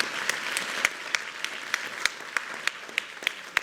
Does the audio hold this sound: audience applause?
yes